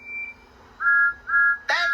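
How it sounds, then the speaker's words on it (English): Percy the small green tank engine blows his whistle in two sharp, clear blasts after a fainter opening tone, ending in a brief louder burst. "he blew the loudest whistle he had ever blown"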